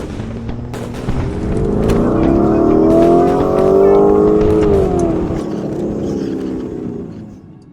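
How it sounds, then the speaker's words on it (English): Makeshift motorcycle engines roar loudly and steadily, their rising and falling revving tones layered together for several seconds before easing off slightly, with no voices present. "the engines would continue to roar"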